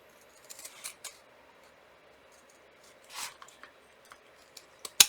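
Scissors trimming a fabric seam allowance on a custom book protector, giving a few quiet, isolated snips spread across a near-silent stretch, with a sharper cut at the very end.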